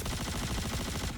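Rapid automatic gunfire from a video game, aimed at an indestructible hangar decoration. The fast, evenly spaced shots run unbroken and loud for the whole moment, with no voices.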